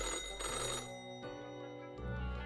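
An old-fashioned telephone rings in the video game Death and Taxes, sounding as repeated bursts of jangling bell tone with a lingering hum between them, fairly quiet and heard without talk.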